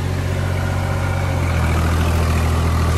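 A tractor engine runs steadily at around 1650 RPM while ploughing deep in farmland, its heavy low drone dipping slightly midway as the clutch is released under load, loud and close with no talking.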